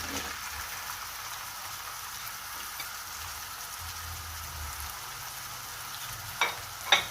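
Minced meat and onion frying in oil in a home kitchen, giving a steady, even sizzle throughout, with a couple of brief louder clatters near the end and no talking.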